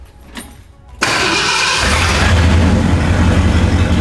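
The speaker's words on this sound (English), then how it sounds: "I'm about to fire this truck up, and this thing actually really impressed me with how quickly it starts." A classic truck engine catches almost immediately after a brief crank, then settles into a loud, steady rumbling idle with a slight rev as it comes to life.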